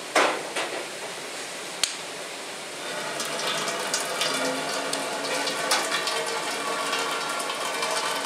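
Sap drains through an opened draw-off valve on a maple syrup evaporator pan in a sugar house, a continuous watery gush and trickle with a sharp metallic clank near the start, steady and close.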